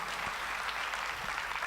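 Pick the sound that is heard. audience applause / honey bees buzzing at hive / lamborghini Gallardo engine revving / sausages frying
audience applause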